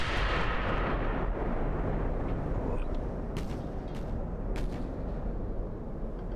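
Naval turret guns firing in Ultimate Admiral: Dreadnoughts, heard as a loud, continuous booming roar with a few sharper blasts breaking through partway along.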